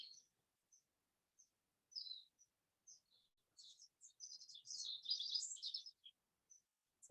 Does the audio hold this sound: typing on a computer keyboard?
no